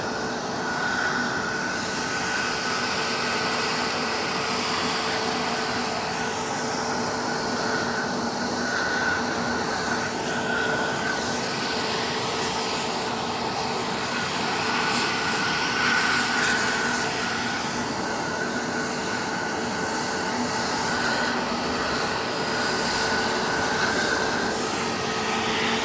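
EasyJet airliner engine at Edinburgh Airport, a steady broadband roar with a sustained whine holding through the whole stretch, loud and continuous with no voices.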